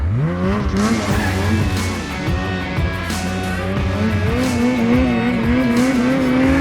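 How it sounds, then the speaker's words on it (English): Loud Ski-Doo Summit 850 E-TEC Turbo snowmobile engine droning and revving up close, with a fluttering, chattering turbo whoosh as the throttle eases off, no voices. "So you can hear a bit of that. Do you hear that flutter"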